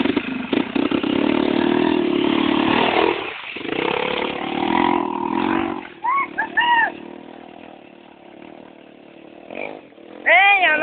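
Dirt bike motorcycle engine revving on a trail, a loud sustained buzzing drone that surges and dips, with a few short whining revs near the end and people talking over it.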